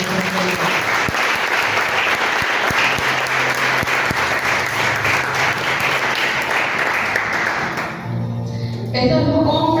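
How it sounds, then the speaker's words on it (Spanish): Loud, sustained applause from a church congregation fills the space for about eight seconds, then tapers off as a voice begins speaking. "Denle un fuerte aplauso"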